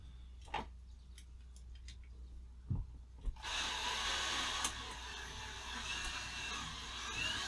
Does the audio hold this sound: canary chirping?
no